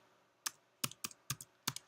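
Quiet, close keystrokes tap on a computer keyboard, about six sharp clicks in an uneven rhythm separated by near-silence.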